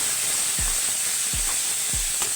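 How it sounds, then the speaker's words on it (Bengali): Spice paste for a fish curry being sautéed in a pan, a constant hissing sizzle with a few low soft thumps of a spatula stirring, close and alone. "আর এখানে ভালো করে এবার মশলাটা কষিয়ে নেব"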